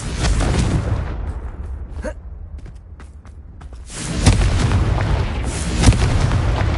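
Confringo fire spell blasts in Hogwarts Legacy erupt as heavy booming explosions, with a loud burst at the start, a quieter crackling lull, then further powerful blasts building toward the end.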